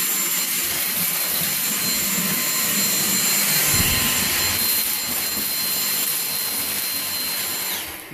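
A Dyson DC59 Motorhead cordless vacuum cleaner sucks up chinchilla dust with a loud, steady, high-pitched motor whine close by, holding constant before dropping off at the very end.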